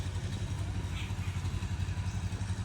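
A tractor runs steadily through a grassy field during weeding, its engine giving a constant low chugging rumble that stays close and even, with a faint rattle over it and nobody speaking.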